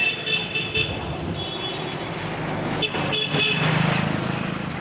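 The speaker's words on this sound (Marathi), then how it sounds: "आता गाडी गेली ती आमच्या दरची गाडी आहे" A passing road vehicle gives short honks amid steady traffic rumble and engine noise on a street, fairly close, with faint voices in the background.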